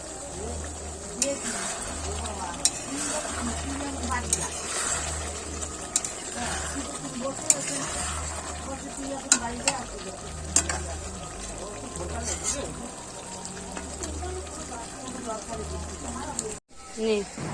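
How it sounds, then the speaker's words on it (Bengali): Meat being stir-fried and braised in a pan at home, a continuous close sizzle with bursts of spatula stirring and scraping, a voice talking intermittently underneath. "এতক্ষণ ধরে মাংস কষানো হলো জল দিয়ে।"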